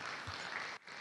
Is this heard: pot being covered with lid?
no